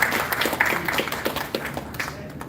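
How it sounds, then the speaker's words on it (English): A crowd at a Kashmiri Hindu Sabha Telangana community gathering applauds a singer, with a dense, steady patter of clapping that slowly fades. "one big round of applause for Sanjay Rana"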